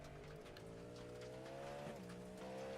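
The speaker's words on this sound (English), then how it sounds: "Car got unsettled mid corner and just lost all traction." A race car in the iRacing Sebring 12 Hours sim loses traction mid-corner, its engine droning steadily with tire squeal and rising and falling pitch, no talking.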